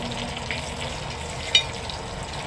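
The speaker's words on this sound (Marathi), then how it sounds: "अख्खा असा आहे तो आता फ्राय करायला ठेवलेला आहे स्लो गॅसवर चांगलं फ्राय होऊ दे" A whole pomfret fries over a low gas flame, giving a steady, even sizzle with no pauses and one brief louder crackle partway through.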